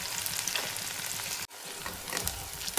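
Two medium onions frying in a pan, a close, steady sizzle with stirring scrapes and a brief dip partway through.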